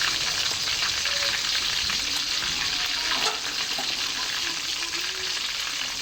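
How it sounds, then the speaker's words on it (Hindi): A steam roast, chicken pieces, frying in a pan, heard as a loud, continuous close-up sizzle and hiss with faint spattering throughout and no voices over it. "4 मिनट हमने ऊपर वाला नीचे वाला हिस्सा फ्राई करना है"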